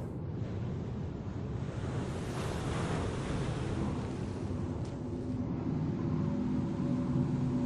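Steady ocean surf washing onto the shore at Salem beach in the video game Murdered: Soul Suspect, a continuous loud roar of breaking waves with wind noise throughout and no talking.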